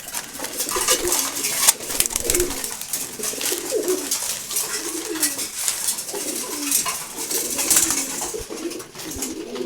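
A mixed flock of pigeons, including Giribaz and racer breeds, coos continuously in overlapping low, throaty calls during morning feeding, with busy pecking, shuffling and occasional wing flutters close by.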